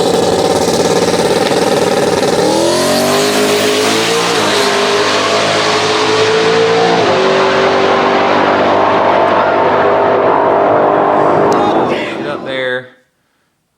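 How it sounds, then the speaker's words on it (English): A drag race car with a blown engine does a long, loud burnout, a sustained roaring wail with rising pitch shifts and tire noise that cuts off abruptly near the end. "do the burnout"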